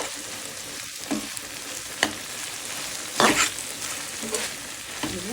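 Okra and onion frying in a pan with a steady close sizzle, broken by a few sharp utensil clinks and stirring scrapes.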